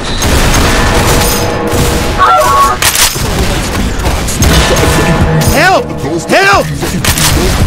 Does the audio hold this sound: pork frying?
no